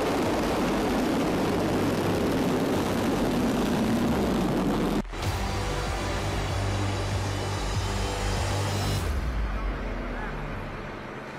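A propeller aircraft engine drones loudly and continuously, a dense, steady roar with a brief dropout midway before it resumes and slowly tapers toward the end.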